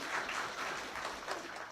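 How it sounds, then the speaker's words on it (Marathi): Steady, dense clapping from an audience at a Marathi kirtan, a continuous wash of many hands throughout, with no voice on top. "जोरात टाळी वाजवायची बघा वाजवा"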